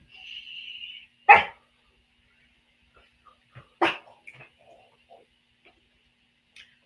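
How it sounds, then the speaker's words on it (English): A dog gives two sharp, loud barks a few seconds apart, followed by a few faint scattered sounds in an otherwise quiet room; a brief high tone comes before the first bark. "And a dog that wants all my cheese."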